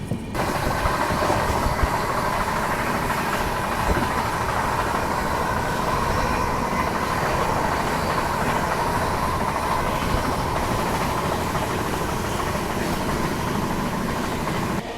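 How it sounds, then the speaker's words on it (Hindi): The Vikramshila Express passenger train runs slowly at night with a steady rumble and faint wheel clatter, heard from inside the coach as a continuous, moderately loud drone with no voices. "बाकी हमारी ट्रेन अभी स्लो चल रही है"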